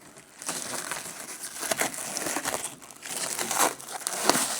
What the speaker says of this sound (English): With the wrapping removed, grab the tape and peel it off.